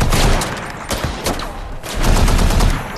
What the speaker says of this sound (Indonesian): Beberapa pemberontak menembaki para tentara itu.